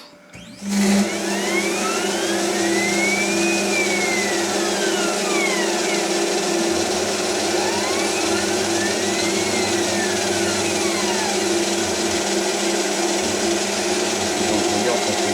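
A Wabeco CNC lathe runs steadily in a workshop and changes tools, giving a constant close mechanical whine and hum. Its pitch sweeps up and down twice as the motor speeds change.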